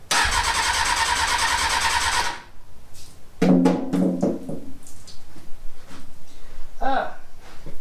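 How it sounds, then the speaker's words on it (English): An abandoned Kawasaki ZX-6R motorcycle engine cranks and fires loudly for about two seconds, then cuts out, followed by clanking handling noises and a brief voice. "All right, let's see if we can get her fired up now."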